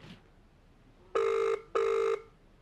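A telephone rings twice, loud and close, each burst an even electronic tone about half a second long with a short gap between, before a voicemail service picks up in a quiet room.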